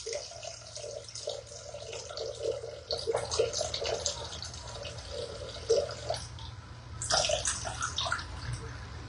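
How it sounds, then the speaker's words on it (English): Water pours steadily into a mixing bowl for bagel dough, a continuous close trickle and splash lasting several seconds, with a brief surge of louder pouring near the end. "All right, so 480 grams of water going in."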